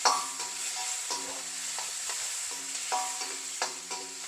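Garlic, onions and green chillies sauté in oil in a pan for an elephant yam masala, a close, steady sizzle broken by repeated scraping strokes of a spatula at a loose, regular rhythm.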